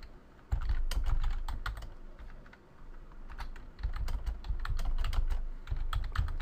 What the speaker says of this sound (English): all you need to do is type out your message